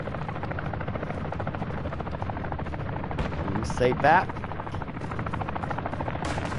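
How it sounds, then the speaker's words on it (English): A helicopter in Call of Duty Modern Warfare 2 drones steadily throughout, a constant rotor roar mixed with game gunfire and effects, with brief talk over it. "Here comes helicopter."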